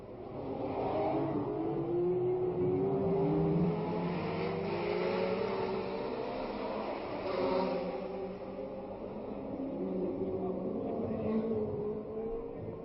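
Engines of 1967 Formula 1 race cars at the Monaco chicane, a steady blend of revving and whirring motors that swells and fades as cars pass, heard at a distance under continuous crowd and track ambience.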